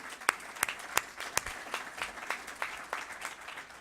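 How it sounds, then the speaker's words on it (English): Applause from a small group, sharp individual claps landing irregularly, fairly close and moderately loud, with no voices over it. "Round of applause, please."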